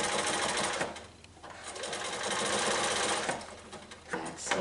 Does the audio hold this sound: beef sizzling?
no